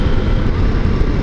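A CFMOTO 800 MT motorcycle engine runs steadily at light throttle yet fairly high revs, giving a continuous, loud, somewhat dry drone with no break.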